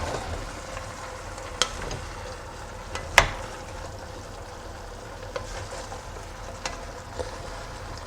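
Rucola being stirred into a simmering stew in a pot, a steady low sizzle with a few soft spoon clinks against the side, no voices.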